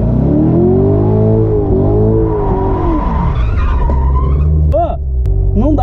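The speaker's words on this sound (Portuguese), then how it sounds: "na hora que eu acelero, ele acelera, acelera, acelera e roda" A Corvette revving hard and spinning its wheels, the loud engine note sweeping up and down with tire squeal, then settling into a lower idle as short chirps and squeaks follow near the end.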